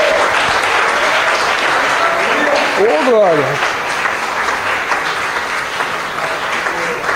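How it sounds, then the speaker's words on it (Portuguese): Audience applause fills a church service, a steady wash of clapping throughout while a preacher's voice calls out over it. "Você pode aplaudir o Senhor."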